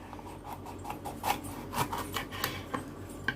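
A knife slicing capsicum into quarter-inch strips on a cutting board gives close, rhythmic rasping cuts, roughly two per second, over a faint steady background hiss.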